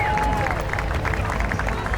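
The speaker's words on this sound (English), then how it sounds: "Give a round of applause" A large crowd at an equestrian three-day event applauds and cheers in a dense, steady wash of clapping that carries on from start to finish at fairly close range.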